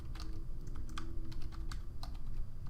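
Quick typing on a computer keyboard, irregular bursts of close, crisp key clicks and clacks with short pauses, no voices.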